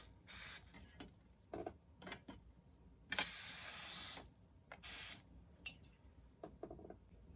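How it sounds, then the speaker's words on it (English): Short hissing bursts of cooking spray misted into a small Easy Bake Oven baking container, three separate sprays with one longer blast in the middle, close and clear amid quiet handling noises. "I'm going to spray just a little bit."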